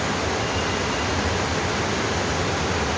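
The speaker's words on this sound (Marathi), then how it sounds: "खूप म्हणजे खूप जोरात पाऊस पडत आहे" Heavy monsoon rain pouring in Mumbai, a dense, unbroken roar of steady rainfall that fills the whole moment with no pauses.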